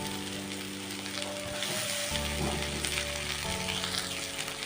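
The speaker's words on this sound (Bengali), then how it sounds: "এর মধ্যে এবার আমি কেটে রাখা টমেটো কুচি দিয়ে দিলাম।" Cauliflower and potatoes fry with turmeric as chopped tomatoes go into the pan, giving a soft, steady sizzle with a brief swell of hissing and a few clinks midway.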